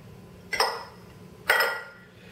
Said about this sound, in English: we're going to whisk together 6 eggs, a cup of sugar, and the juice of 2 lemons